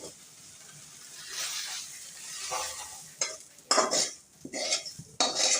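Fried soybeans are poured from a pan and stirred with a metal spoon, a soft sizzle giving way to sharp clinking and scraping against the pan in quick bursts.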